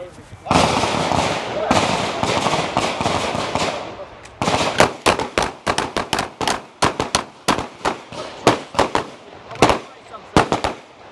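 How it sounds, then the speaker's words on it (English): Gunshots at a defensive shooting range, many sharp cracks in quick overlapping volleys from several shooters at first, then spaced single and paired shots, loud and close. "Fire 5 for 1 magazine."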